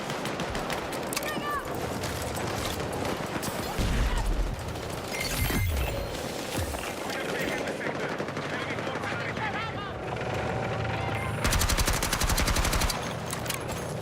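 Rapid gunfire and heavy explosions fill a Battlefield video game battle, with bursts of automatic fire, single shots and booming blasts layered densely throughout, loud and continuous, while a voice talks intermittently over the action.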